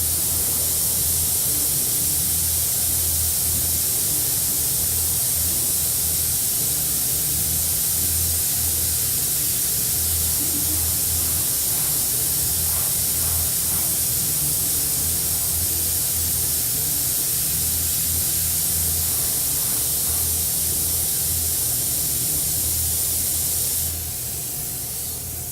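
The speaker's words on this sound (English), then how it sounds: "Now I'm just going to create the shading in the center of the flower using my airbrush" An airbrush sprays enamel or acrylic paint for shading the center of a painted flower, a steady loud hiss that runs unbroken throughout and shifts slightly near the end.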